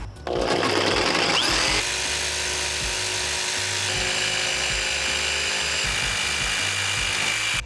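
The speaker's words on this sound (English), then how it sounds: "use that hole to stick the blade of the jigsaw in that and cut the circle out" A jigsaw saws a circle out of a wooden board for a round storage ottoman, a loud, steady buzzing whine that starts after a brief lead-in and runs on continuously near the microphone with no talking.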